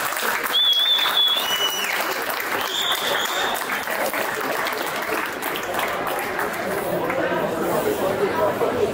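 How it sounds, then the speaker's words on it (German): Crowd applause at a fighters' weigh-in and face-off, a steady dense wash of clapping lasting the whole stretch, with chatter and a few whistles mixed in. "Ein kleiner Applaus für die Herren"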